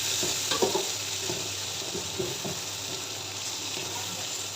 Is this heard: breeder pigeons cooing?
no